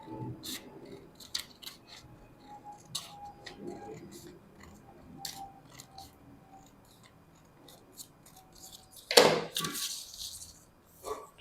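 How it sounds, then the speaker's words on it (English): Scissors snipping through fabric to cut a cup for a corset bustier, heard as scattered crisp snips close by, with a louder rustle of handled fabric near the end. "So I'm going to go ahead and cut out my cup now."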